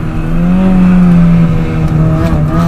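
A Mini Cooper S R53 with a limited-slip differential accelerating on a track, its engine a loud, close, sustained drone that climbs slightly in pitch and holds, with no talking over it.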